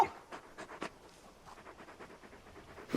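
Torgal, the dog companion in Final Fantasy XVI, pants in short, breathy bursts, a few quick puffs early and then a steadier faint rhythm of panting, close and soft with no talk over it.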